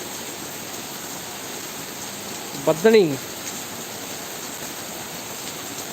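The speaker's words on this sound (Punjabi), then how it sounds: "ਬੜਾ ਹੀ ਧਮਾਕੇਦਾਰ ਤੇ ਪੂਰੇ ਜੋਰਾਂ ਸ਼ੋਰਾਂ ਤੇ ਮੀਂਹ ਦੋਸਤੋ ਆ ਗਿਆ" Heavy rain pours down steadily in the village of Buttar, a dense even hiss close by, with a brief spoken word cutting in over it partway through.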